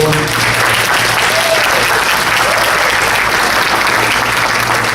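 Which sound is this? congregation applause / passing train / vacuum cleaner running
congregation applause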